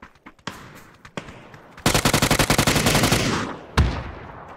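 Gunfire in PUBG: a few scattered single shots open, then a rapid automatic burst of around twenty close, loud rounds, followed by one last heavy shot.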